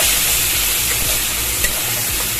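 Spice masala with tomato paste, Kashmiri chili powder and coriander powder sautés loudly and close in a pan, a dense, continuous sizzle broken by the rhythmic scrape of stirring, with no speech.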